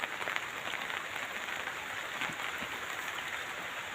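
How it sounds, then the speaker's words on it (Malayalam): Steady heavy rain pouring down on a banana plantation, a dense continuous hiss of drops with no voices, even and unbroken throughout. "നല്ല മഴ പെയ്തുകൊണ്ടിരിക്കുകയാണ്, ഒരു രക്ഷയില്ല"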